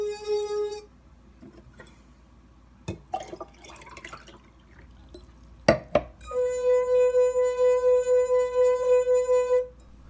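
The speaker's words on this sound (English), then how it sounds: "my finger first sticks to the glass and then slides." A drinking glass sings as a finger rubs around its rim, a pure sustained ringing tone heard once briefly, then after a few clinks and thumps rising again and holding steadily with a pulsing swell.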